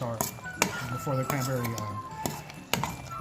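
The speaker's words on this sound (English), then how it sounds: "Stir that around." A utensil stirs cranberry relish with cinnamon in a pot, giving a few clinks and scrapes against the metal while a person talks over it.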